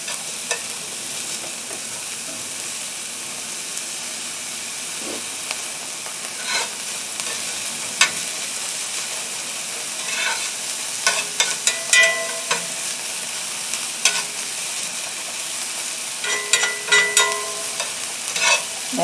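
Onions sautéing in a pan for spaghetti sauce give a steady, close sizzle, with irregular scraping and stirring clatters from the utensil. No one speaks.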